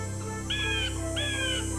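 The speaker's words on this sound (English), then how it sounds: "These birds are too loud." Birds chirping in a Nancy Drew video game, two clear matching whistled calls in succession over a steady ambient hum, fairly prominent with no voices.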